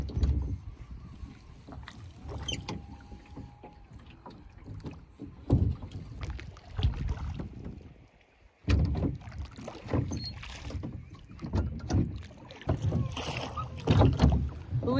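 Canoe paddled on water in Nyanga, Zimbabwe as rain begins, with splashes and knocks against the hull, wind buffeting the microphone and people talking nearby throughout.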